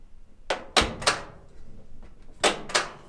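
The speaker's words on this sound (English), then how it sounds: "On some models, you can hear a click." Lid switch on a washing machine clicking as the lid is opened and closed, heard as two quick pairs of sharp, close clicks and thunks with a short pause between them, in a quiet room.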